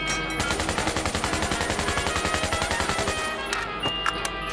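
Sustained rapid machine gun fire in the video game Black Ops 3 Zombies, Kino der Toten map, loud and continuous with an even rattling rhythm for several seconds before tapering off.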